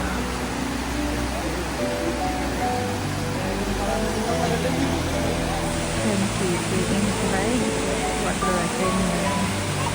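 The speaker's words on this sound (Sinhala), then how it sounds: "ඝනකම අයිස් තට්ටුවේ යටින් තමයි ඉතුරු ජලය ටික පල්ලෙහාට ගලාගෙන යන්නේ." Water rushes beneath a thick ice layer at the frozen Fukuroda Waterfall, a dense, steady roar of flow that holds without pause for the whole stretch.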